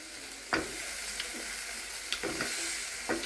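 Rambutan pieces sizzle in a hot pan while village-style rambutan achar is cooked, giving a steady frying hiss broken by a few sharp stirring scrapes and spatters, close by, with no talk.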